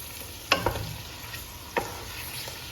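Pansit noodles with shrimp being stirred and tossed in a sizzling pan, with a few sharp scraping clinks over a soft, continuous frying hiss.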